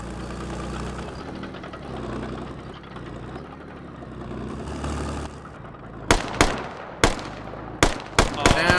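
Gunfire in Operation: Black Ice breaks out after a low engine-like rumble, as a loud cluster of about six sharp, close shots in quick, uneven succession.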